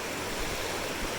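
A creek flows in a steady, soft broadband rush of moving water, faint and constant with no talking over it.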